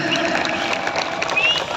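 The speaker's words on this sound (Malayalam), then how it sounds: "നല്ലൊരു കയ്യടി നൽകിക്കോ" Audience applause at a lively Malayalam comedy and song stage show, a dense, steady patter of clapping filling the space, with a faint voice or whistle rising briefly above it.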